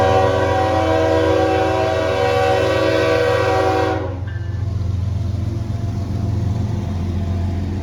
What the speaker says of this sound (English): long train, and it wasn't moving very fast, so this didn't take us that long